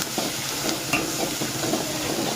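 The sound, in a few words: stirring turmeric and garam masala in a pan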